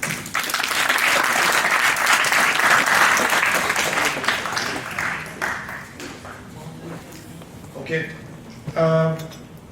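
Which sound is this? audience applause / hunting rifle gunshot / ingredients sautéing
audience applause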